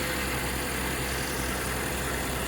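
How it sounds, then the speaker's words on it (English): A 2010 Lincoln MKS engine idles, a steady, even hum with a dense broadband rumble and no talking. "There's what she sounds like on idle."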